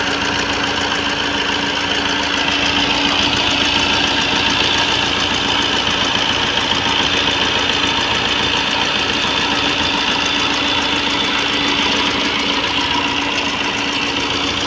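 A second-hand Tata Indigo Manza with a Quadrajet engine idles steadily, producing a close, continuous hum with a faint knocking texture. The sound stays even and unbroken throughout, with no voices.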